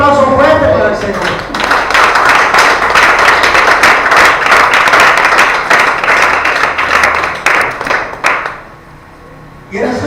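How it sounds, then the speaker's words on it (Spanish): Church congregation applauding for the Lord during an Easter resurrection sermon: loud, close, sustained clapping with sharp taps, fading out near the end before a brief voice. "Un aplauso fuerte para el Señor."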